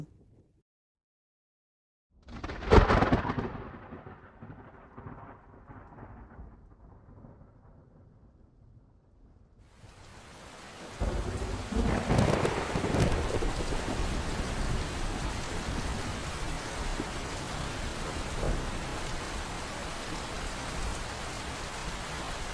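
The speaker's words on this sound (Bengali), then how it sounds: "এই দেখো কত বৃষ্টি শুরু হলো মেঘ যা করেছে বৃষ্টি ভালোই হবে মনে হচ্ছে" Cartoon storm: a sudden loud thunderclap rumbles away into quiet, then heavy rain bursts in and pours steadily, close and dense, to the end.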